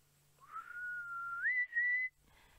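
A person whistles in imitation of a grey hornbill's call, a single sustained note that rises in pitch partway through, heard alone and fairly clear for about two seconds.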